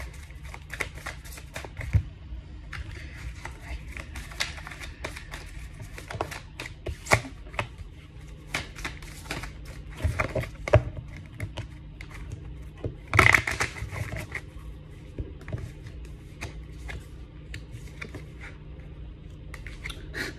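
Tarot cards are shuffled and handled over and over in a quiet room, making soft riffling flutters and crisp slaps in an irregular stream, with one louder burst partway through.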